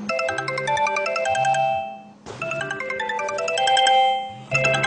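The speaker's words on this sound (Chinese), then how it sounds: "力宏，拜托打一下我手机啊" A mobile phone rings with a bright, melodic electronic ringtone that plays a repeating tune and restarts after a brief pause, clear and close with no talking.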